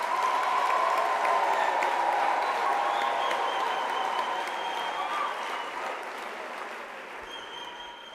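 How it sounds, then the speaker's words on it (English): Sustained applause from a graduation ceremony audience for the graduates, dense and steady, slowly fading over several seconds with no speech. "Colleagues, can we give a round of applause to our graduates?"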